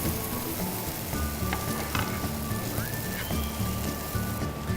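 Pepperonata of colourful peppers sizzles in a pan over heat, a dense, continuous frying hiss with scattered light pops and a faint clink.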